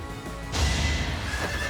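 Horse neighing from a mount in the video game Fire Emblem: Three Houses, a loud whinny bursting in after a brief quiet lead-in, with hoof clip-clop underneath, all without talk.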